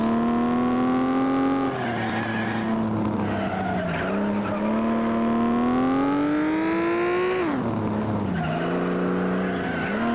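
Race car in the FlatOut video game, its engine droning at a steady high pitch that climbs and dips through gear shifts, with tires skidding and squealing underneath, loud and continuous throughout.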